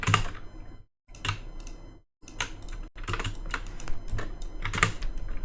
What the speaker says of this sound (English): I'll just drag it and tap Alt on the keyboard.